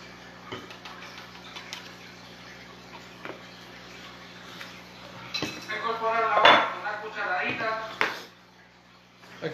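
Cream cheese with a teaspoon of vanilla is creamed in a bowl for panna cotta, with faint ticking scrapes of a utensil that grow into louder, busier clatter near the end while a person talks throughout.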